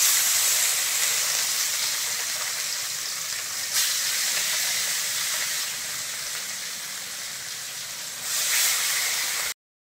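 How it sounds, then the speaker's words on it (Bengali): Pieces of katla fish, rubbed with salt and turmeric, fry in hot white oil in a kadai, giving a steady, loud, even sizzle with a couple of brief surges and no talk. "এবার আমি এক এক পিস মাছ তেলের উপর ছেড়ে দেব।"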